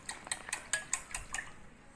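A whisk clinks against a bowl as it stirs an activated yeast mixture, about eight light, quick metallic taps in an even rhythm, fairly quiet and close, then fading out.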